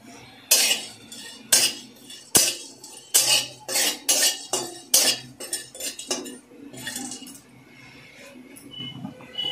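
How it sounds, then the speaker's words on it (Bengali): Black pepper, cardamom, cloves and cumin are dry-roasted in a hot pan. A utensil scrapes and clinks against the metal in about a dozen rhythmic strokes that taper off toward the end. "প্রথমে আমি গোলমরিচ, দুটো এলাচ এবং লবঙ্গ আর কিছুটা জিরে শুকনো খোলায় ভেজে নেব।"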